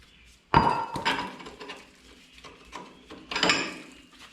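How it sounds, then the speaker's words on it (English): Rusty metal U-bolts pulled free from a 1970 Minneapolis Moline U302 propane tractor, giving a sharp metallic clank followed by scattered clinks and scrapes, with a second louder rattle of metal near the end. "pull the U-bolts out"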